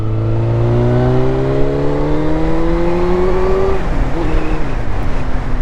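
A motorcycle engine revs steadily and loudly, its pitch climbing smoothly over several seconds before easing back, with constant mechanical roar and no voices.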